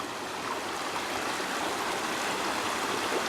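A river rushes past close by near a washed-out stretch of the Squamish forest service road, where the flood has carried rocks and sand down into the water. It is a steady, loud broadband roar with no voices.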